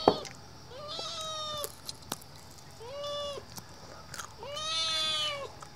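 A cat meows three times, close and clear, with short gaps between calls and faint clicks and rustles in the background, as it waits for a bite of food at home.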